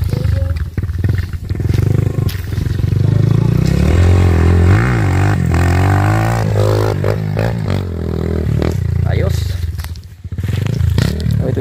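A Honda XR150 dirt bike engine revs hard and loud, rising and falling in pitch through repeated throttle bursts, with a rough, roaring growl close by.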